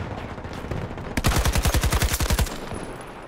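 AK rifle fire in Battlefield 2042: one sustained full-auto burst of about a dozen rapid, evenly spaced, loud close shots lasting just over a second, with no talk over it.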